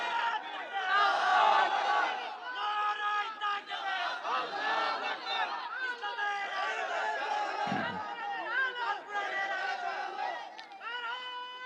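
A crowd of young men at a religious political gathering roars a loud, sustained takbir chant, many voices shouting together in rising and falling waves that fill the space for several seconds.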